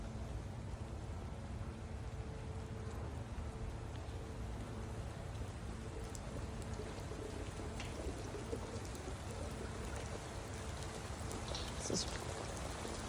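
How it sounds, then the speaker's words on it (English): Steady rain falls in a garden outside, a dense, even hiss of drops hitting leaves and surfaces, close and constant throughout with no talk. "Got the rain going."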